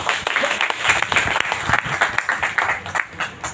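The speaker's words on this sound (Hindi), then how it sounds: "एक बार जोरदार तालियां आप लोगों को" Enthusiastic applause from an audience at a spiritual talk by Gurudev Gyan Prakash Singh, steady clapping from many hands with a lively pulsing rhythm, fairly close.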